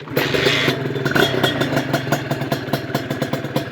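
A tuned Honda NSR150RR motorcycle engine runs nearby with a steady, clattering putter and slight throttle swells, loud and continuous throughout, with no voices.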